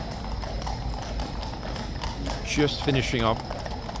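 Hooves of Household Cavalry horses of the Blues and Royals clip-clopping as they ride out from Horse Guards through a tunnel, steady clopping under a brief spoken line and outdoor ambience.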